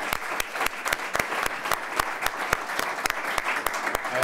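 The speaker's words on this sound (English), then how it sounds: "Give Angelo's a nice round of applause" Scattered, thin applause from a small audience at a chamber of commerce event in an Elmhurst restaurant, with individual sharp claps rhythmically audible and a murmur of voices underneath.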